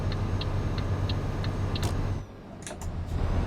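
A truck's turn indicator in Euro Truck Simulator 2 ticks in a steady rhythm, about six evenly spaced clicks over a low engine hum, followed by a few brighter clicks and shifts.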